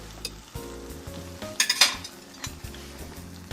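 Whisk working through hollandaise sauce in a pan, a steady scraping stir with a few sharper metallic clinks in the middle, close and alone.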